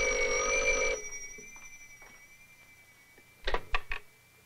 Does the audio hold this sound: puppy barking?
no